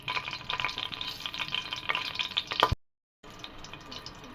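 Whole spices, bay leaf, cinnamon, cloves, fennel and green chillies dropped into hot oil for a chicken biryani crackle and sizzle steadily up close, with small pops, then stop abruptly before a quieter sizzle resumes.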